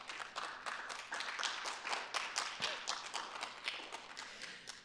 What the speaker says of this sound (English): Can we give our holiday giving team a great round of applause?